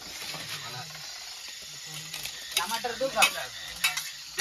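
Potatoes tossed into a hot, sizzling pan for masala rice, a fizzy frying hiss with stirring scrapes and clatter, several sharper crackles near the end, close and fairly loud.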